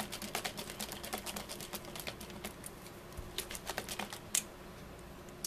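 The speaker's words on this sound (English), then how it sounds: "then you're gonna put your lid on, shake it" Homemade vanilla extract sloshing in a lidded glass jar being shaken, with split vanilla beans inside: a quiet, steady run of small rapid clicks and rattles, close by, with no talking.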